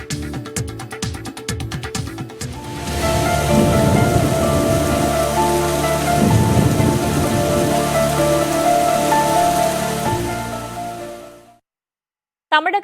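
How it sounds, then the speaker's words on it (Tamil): Heavy rain pours steadily and loudly over districts of Tamil Nadu with thunder rumbling beneath it, preceded by a short musical intro and ending abruptly. "தமிழகத்தின் பல்வேறு மாவட்டங்களில் கனமழை பெய்திருக்கிறது"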